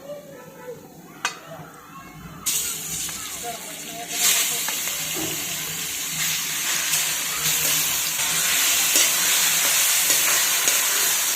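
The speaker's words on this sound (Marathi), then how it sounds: "आपण फुल गॅसवरती कैरीचा खीस 3 ते 4 मिनिट आपण चांगला परतून घेऊयात" Grated raw mango sautéing in ghee in a hot pan over full flame: a steady, bright sizzle swells in after a short talking start and keeps hissing, with occasional stirring scrapes.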